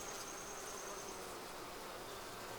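Hungry honey bees heading into summer dearth buzz around an opened hive, a faint, continuous, even hum of many insects close by with no voices.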